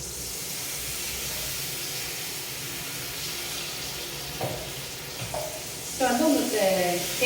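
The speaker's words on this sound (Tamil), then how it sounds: "நெய் வந்து நல்லா காய்ஞ்சிடுத்து இப்போ நம்ம வந்து ஒன்று ஒன்றா குத்திப்போம்" Sweet snack dough for a Gokulashtami festival spread fries in hot ghee in a pan, giving a steady close sizzle that swells into a louder, crackling burst as more pieces drop in near the end.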